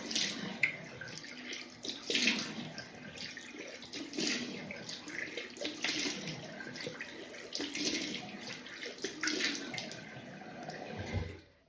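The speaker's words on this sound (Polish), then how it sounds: "spłukujemy buzię pod bieżącą wodą" Running tap water pours while a face is rinsed during an evening skincare routine, a continuous close splashing and gurgling with uneven bursts as hands scoop water, stopping abruptly at the end.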